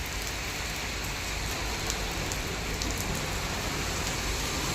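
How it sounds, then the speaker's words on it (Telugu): Heavy, dangerous rain pours steadily during a night thunderstorm near a city traffic signal, a dense continuous hiss with no breaks and no voices. "వర్షం అంతా మామూలుగా పడతలేదు, చాలా అంటే చాలా డేంజర్గా పడుతుంది"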